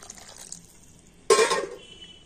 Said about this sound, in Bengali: তার জন্য আবার আমি একটু গরম জল দিয়ে দেব।